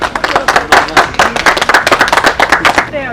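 Audience clapping at a university agricultural pest-management workshop, a loud close burst of rapid irregular claps that carries on for the whole stretch.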